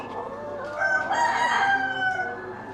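A rooster at a small-animal show crows once, a long rising and falling call heard close up against a steady background hum.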